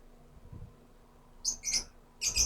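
A few short, bright bird chirps in quick bursts over a quiet low hum, with a brief pause before a final chirp.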